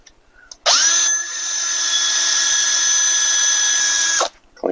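A power tool, likely a drill with a wire wheel or abrasive, whirs steadily for about four seconds, cleaning surface rust off a brake caliper piston face on a 2008 Mercedes GL320 CDI turbo diesel; loud and close, starting and stopping abruptly.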